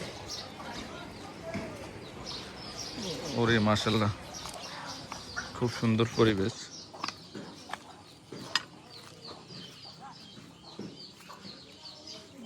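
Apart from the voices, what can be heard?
birds chirping in village surroundings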